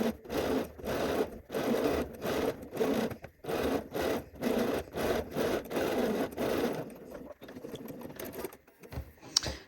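A sewing machine stitches a gathered seam on a Cashmerette Loring dress in a series of short, evenly spaced bursts with brief pauses between them, close and fairly loud, trailing off into quieter fabric handling at the end.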